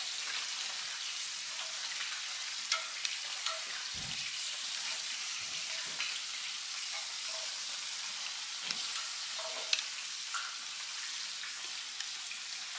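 Sauce hitting grilled zarandeado shrimp and fish sizzles steadily, a soft even hiss with scattered pops and crackles, close and alone without talk.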